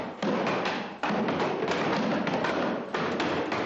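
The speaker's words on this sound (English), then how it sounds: "Boys, please, stop banging your desks." In a school classroom, a crowd of boys bangs on wooden desks with a dense, continuous clatter of thuds and knocks. The din breaks off briefly twice before resuming.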